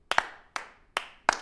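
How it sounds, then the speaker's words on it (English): A few sharp hand claps spaced at an unhurried pace, about five crisp individual smacks in under two seconds, isolated and dry with silence between them. "A slow clap?"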